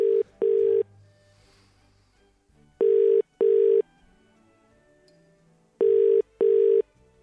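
A telephone dials out while calling Santa, its ring tone sounding three times as paired bursts of a steady tone with quiet gaps between, clear and close, with no talking.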